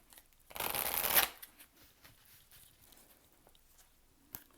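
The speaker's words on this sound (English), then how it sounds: "I'm gonna draw actually one more oracle cards" Oracle cards being shuffled and drawn by hand: a burst of rapid riffling and flapping lasting about half a second, close and fairly loud, followed by quiet handling rustles and one small tap.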